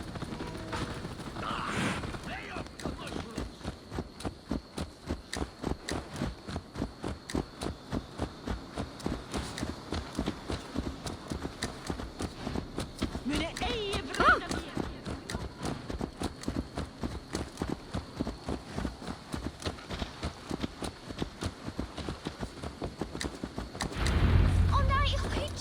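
Horse hooves in Assassin's Creed Valhalla clopping in a steady, even walking rhythm throughout, moderately close, under soft voices and ambient background, ending with a low thump.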